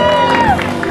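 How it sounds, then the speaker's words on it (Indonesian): A studio crowd cheers and applauds for Restu, with a whooping voice and a loud, busy mix of clapping and shouting over a musical tone, brief and close. "Tepuk tangan buat Restu ini."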